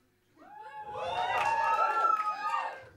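A comedy club audience at a stand-up show breaks into rising cheers and high whoops, swelling from silence into a sustained, lively crowd roar over a few seconds.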